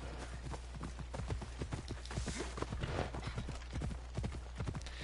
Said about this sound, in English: I could hear the horse coming up from behind on the right side.